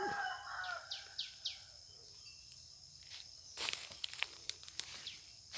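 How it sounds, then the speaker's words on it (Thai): A rooster crows a few times in a row early on in a eucalyptus plantation, followed by scattered clicks and rustles, with insects buzzing faintly in the background. "เสียงไก่ขัน"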